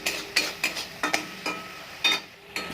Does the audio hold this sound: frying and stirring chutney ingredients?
yes